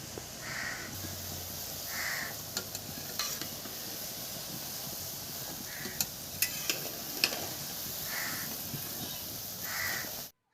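Small vadas fry gently on a low flame, giving a soft steady sizzle close by, while crows caw intermittently in the background and faint clicks come through.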